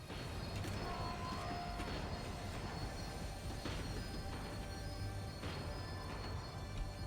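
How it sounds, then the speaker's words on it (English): A tram slowing down in the video game Max Payne 3, a steady rumbling roll with metallic wheel squeals and clanks over a constant loud background, and no voices. "The tram was slowing down, and I'd only just gotten on board."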